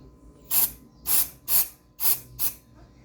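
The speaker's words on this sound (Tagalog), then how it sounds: "I-spray natin tong yung wire nya dito sa may susian mga boss." Cleaner is sprayed onto the ignition wiring near the key switch of a Honda Click 150 scooter in five short, sharp hissing bursts at a steady rhythm, close and alone over faint background noise.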